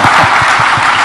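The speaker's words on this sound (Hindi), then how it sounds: "प्रतिभा के लिए आप लोग तालियां नहीं बजाएंगे?" Applause from an audience at a live interview session at a summit in India, a loud dense patter of clapping filling the whole moment with no voices over it.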